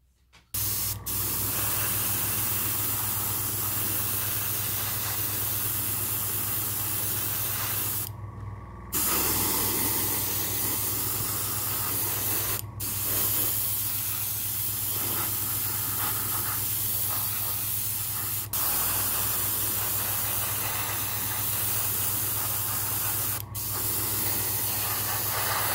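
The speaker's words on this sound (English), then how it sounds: "I'm going to spray down the side of the hull" An airbrush sprays Vallejo Model Air Sand Yellow paint along the side of a model tank hull, a steady close hiss held for long stretches with a few brief cutoffs, no talking.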